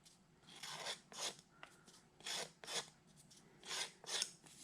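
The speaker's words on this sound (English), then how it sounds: "I just use the back of the knife to kind of scrape that back a little bit" The back of a knife scrapes the burr off the freshly cut end of a tube, making several short rasping strokes in uneven bursts, close and fairly quiet, with no talking.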